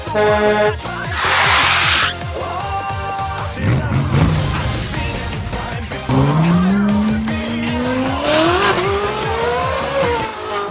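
A tuned Japanese car drives with tires squealing in sharp bursts as the engine revs and shifts pitch, loud and close, mixed with music.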